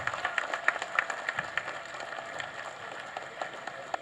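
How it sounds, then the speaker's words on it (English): An audience at an alumni meet applauds Dr. Raman with steady, moderately loud clapping spread across the room, fading a little toward the end. "Please give a big round of applause for Dr."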